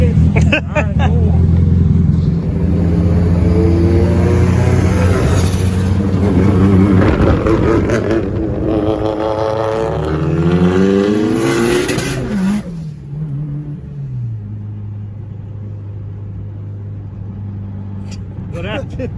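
Toyota Prius engine revving during a dyno night, a loud droning roar that climbs and falls in pitch before settling to a lower hum, with people talking over it.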